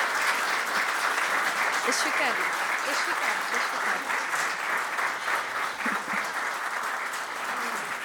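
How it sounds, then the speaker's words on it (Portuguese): A crowd applauds at an honorary members' ceremony, with continuous, full clapping throughout and a brief spoken remark heard through it. "para quem peço uma grande salva de palmas"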